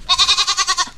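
A goat bleats in a rapid run of about eight wavering pulses, loud and close, with no talk over it.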